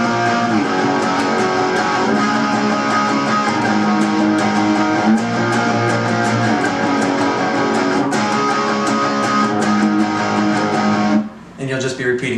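Guitar chords for the chorus ring out in a continuous, even strummed pattern, full and close, before cutting off shortly before the end.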